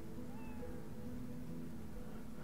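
An enchanted dead cat in Divinity: Original Sin 2 gives a faint, drawn-out meow over a steady low game ambience, the single cry rising briefly near the start and fading.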